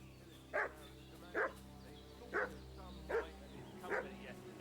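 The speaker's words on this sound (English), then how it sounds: "What's that dog making such a fuss about?" A dog in the video game Kingdom Come: Deliverance 2 barks five times at a steady rhythm, somewhat distant, over a low ambient background.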